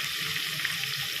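Onion sautéing in a pan for chicken gravy, a brief, even hiss of frying with no voices.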